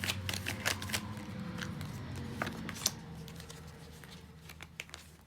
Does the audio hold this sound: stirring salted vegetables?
no